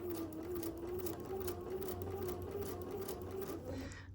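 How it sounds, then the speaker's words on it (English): A sewing machine stitches a mini quilt in a steady, even run of close, rapid stitching that carries on alone without pause, quiet and near. "sewing right on the line"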